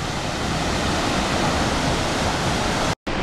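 Vernal Fall in Yosemite roars as a dense, unbroken rush of falling water heard from close beside the cascade in the mist, loud and constant with only a brief dropout near the end.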